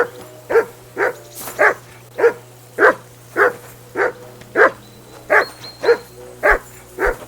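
A dog in Kingdom Come: Deliverance II barks steadily, about a dozen loud, evenly spaced barks close by over a constant low hum.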